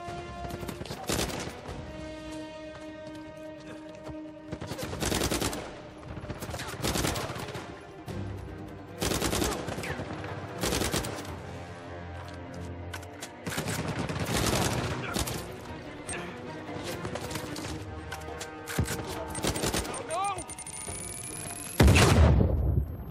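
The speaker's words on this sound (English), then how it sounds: "Shotgun do work." Shotgun blasts in the action video game Uncharted 4, several loud booming shots spaced every few seconds over continuous game sound, with a final louder burst near the end.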